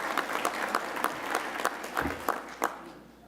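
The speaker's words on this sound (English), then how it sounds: "give her a round of applause" Sparse, scattered clapping from a healthcare conference audience during opening presentations, a few distinct hand claps standing out over a quieter bed of applause, moderately distant.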